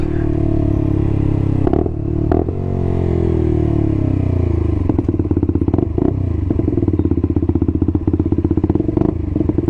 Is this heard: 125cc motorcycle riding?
yes